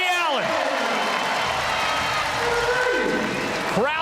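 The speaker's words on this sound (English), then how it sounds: "Crowd is on their feet." A basketball crowd at a CEBL game in Winnipeg rises to its feet, a loud sustained roar of cheering and applause, with whistling tones sweeping above the din throughout.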